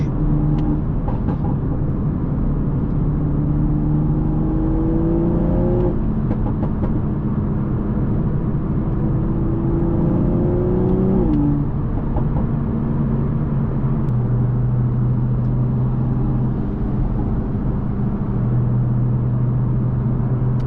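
A 2020 Toyota Supra with a burble tune drones steadily and shifts pitch, with a few sharp popping crackles from the exhaust near the start.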